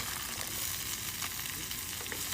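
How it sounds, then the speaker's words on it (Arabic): Chicken, potatoes and onion, with bell pepper and crushed garlic and ginger, sizzle in a pan while being stirred, a dense, continuous frying hiss at close range with no talking. "نحرك"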